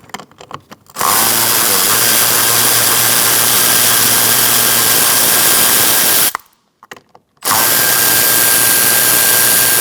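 Power drill fitted with a 7mm socket backing out window regulator bolts on a 2007-2017 Ford Expedition door, a steady loud whirring run of about five seconds, a short pause, then another sustained run.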